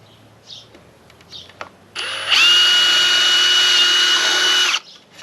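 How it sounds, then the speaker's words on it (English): A cordless power drill whirs up and holds a steady high-pitched whine for about two and a half seconds, boring a hole for a BKD exhaust spoiler install, then spins down, with faint handling clicks before. "these two holes that I'm going to have to drill"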